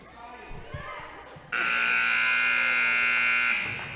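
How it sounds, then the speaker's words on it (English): A loud, steady electronic buzzer ends a quarter at a high school girls' basketball game, sounding for about two seconds after ball bounces and court noise, with a commentator talking. "And the buzzer sounds at the end of the first quarter."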